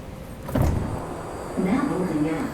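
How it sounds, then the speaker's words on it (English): A BART orange line train door opening on the way to Berryessa, a rising electric motor whir with a thump, then a second whirring sweep, close by under faint background talk. "So this is the door that's going to open right here."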